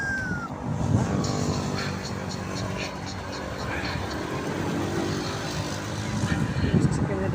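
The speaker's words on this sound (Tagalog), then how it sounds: "Sasakyan na dumadaan mo." Vehicles passing along a roadside in Mandurriao, Iloilo, a continuous mix of engines and tyre noise rising and fading as traffic goes by, with a voice talking over it.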